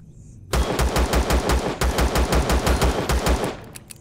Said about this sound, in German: Das heißt auch, ich muss mir den Weg freischießen.